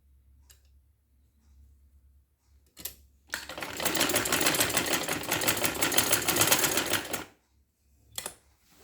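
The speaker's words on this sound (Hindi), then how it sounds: "अब हमें डबल सिलाई भी करनी है तो डबल सिलाई भी हम कर" A sewing machine runs a second line of double stitching along a neckline in one continuous burst of fast, rattling whir of about four seconds, with brief clicks and handling noises before and after in otherwise quiet surroundings.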